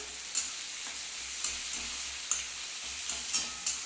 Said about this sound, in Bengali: এবার হবে পেঁয়াজ আর কালো জিরে কাঁচা লঙ্কা দিয়ে ভেন্ডিটা একটু ভাজা ভাজা করব